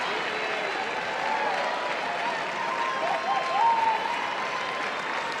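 Crowd at the Westminster dog show Best in Show ceremony, a sustained roar of cheering and applause filling the arena, steady and fairly distant, with a commentator talking over it.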